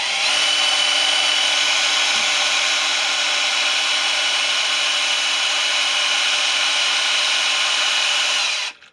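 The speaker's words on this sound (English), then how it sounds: "And you can see the drill get closer to the vise as it twists." A power drill whirs continuously at steady high speed, twisting thin wires held in a vise into cable, close and loud before cutting off abruptly at the end.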